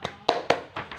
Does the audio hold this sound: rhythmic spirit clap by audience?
yes